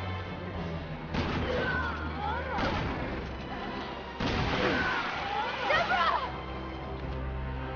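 Gunfire in Resident Evil 6 comes as repeated loud bursts of shots and impacts mixed with game sounds, with a voice talking over part of it.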